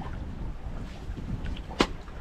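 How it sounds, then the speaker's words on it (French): A sailboat glides under wind power off the Catalan coast near Cala Garbet, with a steady low rush of wind and water, a faint creak and a single sharp knock near the end. "là, on avance à la puissance du vent"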